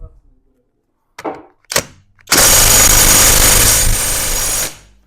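A Grosser GTW 780 impact wrench works on seized nuts on a Volkswagen T4 at a car service station, firing two short bursts and then one loud, sustained hammering run of about two seconds, close by.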